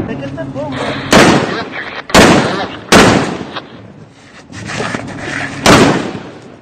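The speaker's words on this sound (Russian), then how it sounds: "Пулемет" Gunfire in combat on the Russia–Ukraine border: about five loud, sharp reports crack out at uneven intervals roughly a second apart, close by, with faint voices between them.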